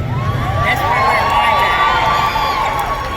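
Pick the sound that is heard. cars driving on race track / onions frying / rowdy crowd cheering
rowdy crowd cheering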